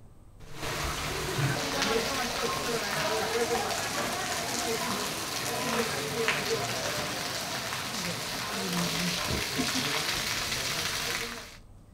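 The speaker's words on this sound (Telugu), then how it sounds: "Moosapet, Sanath Nagar, Jubilee hills, Banjara hills, film నగర్లో భారీ వర్షం పడుతోంది" Heavy rain pours down across Hyderabad neighbourhoods, a dense steady hiss of drops striking surfaces that holds loud and even throughout, with a voice speaking faintly over it.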